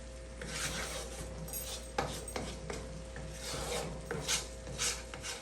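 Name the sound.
spoon scraping the sides of a pot of cooking milk-and-sugar fudge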